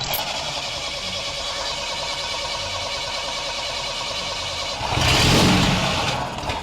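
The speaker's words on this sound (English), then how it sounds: "Trying to start it with this alcohol doesn't work because we don't know the right ratio of alcohol to air." A car engine cranks steadily on alcohol fuel without catching, a continuous mid-pitched churning that swells louder near the end, with faint talk in the background.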